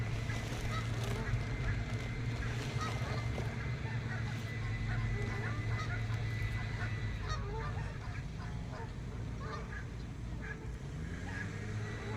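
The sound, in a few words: Canada geese honking on a dock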